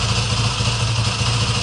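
A Yamaha WR450F dirt bike engine runs at a steady idle, a continuous close buzzing drone with a rough mechanical texture and no voices.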